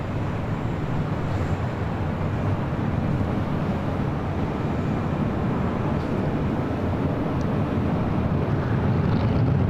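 Delta jet taking off from runway 24 left at LAX, a steady loud broadband engine roar that holds and builds slightly throughout, with no voices over it.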